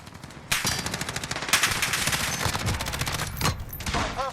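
A Remington TAC-14 shotgun firing incendiary rounds in Call of Duty Modern Warfare, loud repeated shots in quick succession mixed with other gunfire nearby, steady and dense throughout.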